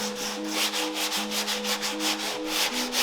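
Rhythmic back-and-forth strokes of sanding on body filler across a widebody Porsche 911 panel, steady and close, with a faint tonal hum running underneath throughout.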